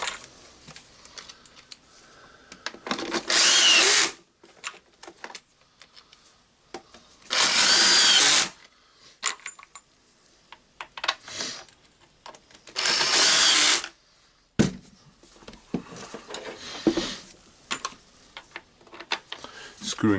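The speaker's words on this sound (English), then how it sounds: "Screwing back the handle screws." Power screwdriver driving the handle screws back into a Hilti TE 706-AVR breaker, three loud close whirring bursts of a few seconds each, separated by clicks, handling noise and someone talking.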